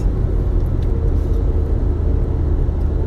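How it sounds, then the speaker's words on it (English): A very loud truck drives alongside on the road, its engine noise a heavy, steady low rumble that stays close and constant throughout. "A very loud truck next to us."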